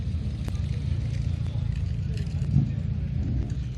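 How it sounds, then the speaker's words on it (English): A 1967 Ford Mustang classic car rolls past at a classic car Sunday meet, its low engine rumble steady and moderately close throughout, with people talking over it. "Probably the last Mustang of the day. 1967 this one is."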